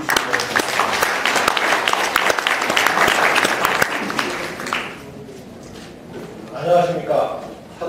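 Hearty audience applause welcoming the association chairman at a policy forum with business owners, dense clapping for about five seconds that fades out, followed by a quiet gap and a voice beginning to speak.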